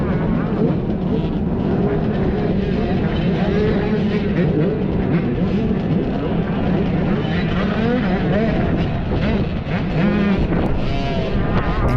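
Youth dirt bikes at a sprint enduro race roar off the start in a dense, continuous engine drone, loud and close, with wind buffeting the microphone throughout.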